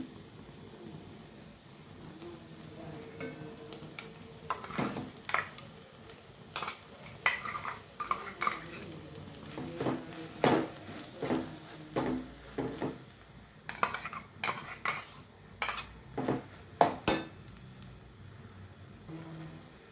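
Soya chunks with salt and masala being stirred in a pan for a soya palak gravy: irregular spoon scrapes and clinks against the metal pan, growing busier toward the end, close and alone with no speech.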